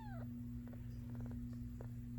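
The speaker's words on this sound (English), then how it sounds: "You hear your purrings?" Nursing kitten purring with a steady low rumble, close and faint, broken by a couple of brief high meow-like squeaks.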